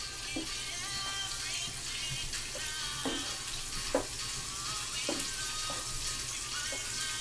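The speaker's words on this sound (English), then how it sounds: "we want to stir it in evenly with the rest of our chili" Chili with beans simmers and sizzles in a pot while a spoon scrapes and stirs in slow, regular strokes, close and fairly loud over a constant bubbling hiss.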